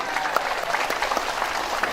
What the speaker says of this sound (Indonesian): khusus ibu-ibu saya minta tepuk tangannya biar meriah